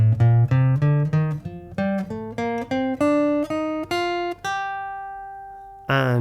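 Clean guitar climbs a natural minor scale in single picked notes, steady and close. The top note rings out and fades before one final pluck, no talking.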